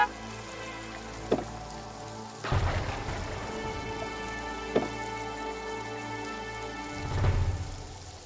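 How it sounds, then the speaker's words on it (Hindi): Heavy rain pours steadily, with occasional sharp cracks and deep rolling rumbles of thunder. "बारिश बहुत ज़्यादा हो रही है"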